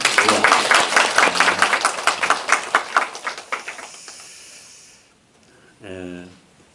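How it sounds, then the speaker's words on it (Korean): Applause at a Won Buddhist temple's weekly dharma service: a small group claps in quick, uneven strokes that taper off after about four seconds, and a voice follows shortly after in the quiet. "박수 한번 보내드릴까요?"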